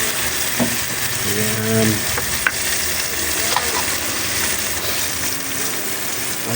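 Food sizzles steadily as it is sautéed in a pan for Filipino go-mong, with balatong about to go in; a continuous close frying hiss runs throughout, broken by a few stirring clinks and a brief spoken word.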